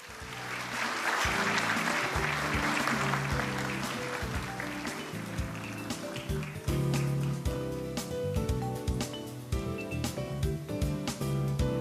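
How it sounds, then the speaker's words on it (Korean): Audience applause at the 44th Disabled Persons' Day commemoration ceremony, welcoming the head of the Korea Disabled People's Development Institute to the stage; steady, full clapping sustained throughout with some rhythmic music-like tones mixed in. "박수로 맞이해 주시기 바랍니다."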